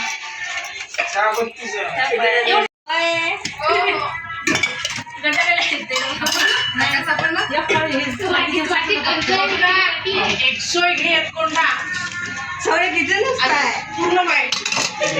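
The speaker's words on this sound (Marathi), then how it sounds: "भांडी काढून घ्या बरं" Dishes and cutlery clatter and clink continuously while several people talk loudly nearby at a wedding household.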